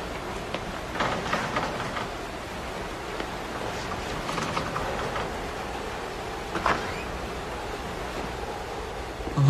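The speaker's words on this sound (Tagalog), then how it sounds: "Ay, naku. Lakas talaga ng ulan." Heavy storm rain pours down as a steady, dense broadband hiss with a few louder gusts and splashes, continuous and fairly close, with no speech over it.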